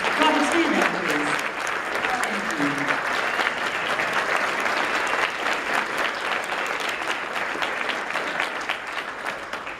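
A banquet crowd at an awards gala gives an honoree sustained applause, dense clapping that stays steady for about ten seconds, while a few voices speak briefly in the room near the start.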